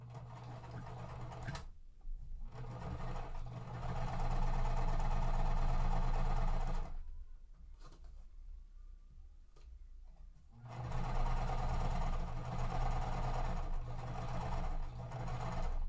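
A sewing machine stitches quilt pieces for a Flyway puzzle mystery quilt in two long, steady whirring runs, close and even, separated by a pause with quiet handling of fabric.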